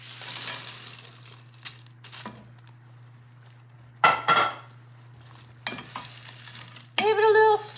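Tortilla chips being stirred into sauce in a pan for chilaquiles, heard as a few scattered scraping, rustling bursts against a quiet background with a steady low hum, the busiest stretch coming at the end.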